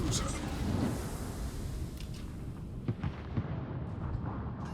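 British battleship broadside in World of Warships, heavy naval gunfire rumbling in deep booms with several sharper reports later, fairly loud and layered over game ambience, with a voice talking beneath.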